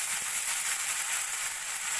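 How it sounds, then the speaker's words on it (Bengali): Thinly sliced medium onion frying in hot oil for a Bengali fish curry, producing a steady, close, hissing sizzle that holds even throughout with no voices. "পেঁয়াজটা একটু 2 মিনিট মতো ভাজা ভাজা করে নেব।"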